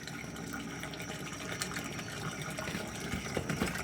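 Water gushes hard and steady from a well pumped by a generator, a loud continuous rushing splash close by with no let-up.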